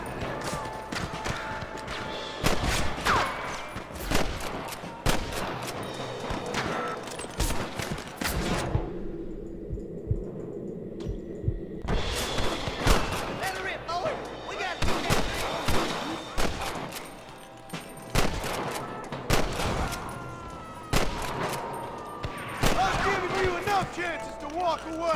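Repeated gunshots in Red Dead Redemption on PC, sharp cracks scattered across a long stretch with a brief quiet pause midway, mixed with game sounds and someone talking.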